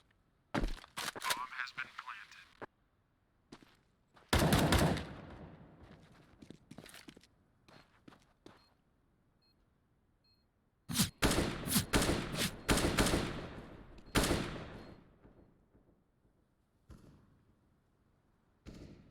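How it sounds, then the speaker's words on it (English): Bursts of gunfire in the video game Counter-Strike during a match, with sharp rapid volleys in clusters separated by quieter gaps, some shots near and loud, with a caster's voice talking between them. "Shots come out"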